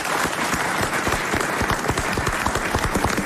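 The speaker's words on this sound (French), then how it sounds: "alors soyez applaudis 2 fois" Studio audience of the French radio panel show Les Grosses Têtes on RTL breaks into dense, steady applause, close and loud, with sharp individual claps throughout and no talking over it.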